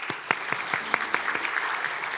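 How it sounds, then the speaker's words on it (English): Audience applause after a conference session in a hotel grand ballroom, a short burst of scattered claps that thins into a softer patter, fairly quiet and heard alone. "Another round of applause, please."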